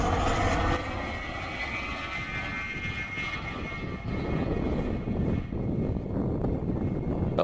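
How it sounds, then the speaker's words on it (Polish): An airplane comes in to land with a continuous engine roar, fairly loud and steady throughout, briefly surging at the start and again toward the end, with no one speaking. "Dwa samoloty wylądowały już w Polsce, kolejny ma dotrzeć dzisiaj w nocy"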